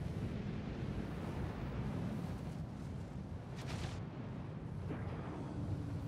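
An Idris ship's railgun fires in a video game: a heavy, continuous roar with a brief brighter burst partway through. No voices.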